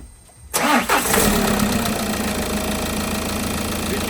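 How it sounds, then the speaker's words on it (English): A 2022 Citroen Relay 2.2 Blue HDi DW12 diesel, freshly rebuilt with new camshaft, rockers and lifters, cranks briefly, fires and settles into a loud, steady close-up idle. "let's see if it's gonna fire up now, everything assembled"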